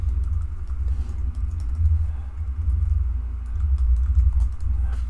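Typing on a computer keyboard during a Cisco Secure Firewall demonstration, with steady close keystrokes over a low hum, no talking.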